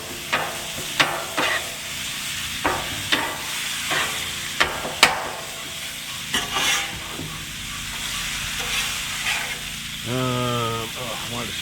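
Seasoned food is stirred in a frying pan at a campground: a steady sizzle with repeated scraping, tapping utensil strokes throughout, and a brief voice near the end.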